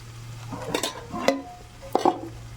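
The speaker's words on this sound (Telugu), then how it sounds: "ఒకసారి బాగా కలుపుకొని మూత పెట్టేసుకుందాం" Biryani being mixed in a pot over a wood-fired stove, with a few scraping, clattering strokes of a spoon against the metal pot over a steady low hum.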